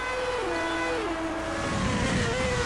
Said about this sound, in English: the lead from Patrick O'Donoghue, and now the Ferraris are in reversed order as they make their way onto lap 6 here.